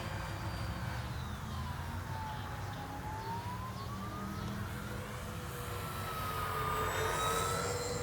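An E-flite EC-1500 Twin 1.5m RC airplane flies at a distance, its faint electric motors whining and sweeping up and down in pitch as it passes through manoeuvres.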